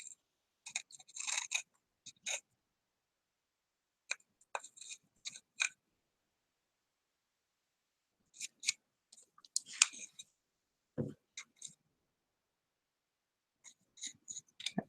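Scissors snipping felt for the backs of coaster art tiles, in short crisp bursts of cutting separated by quiet pauses, close and fairly faint, with a few soft handling clicks.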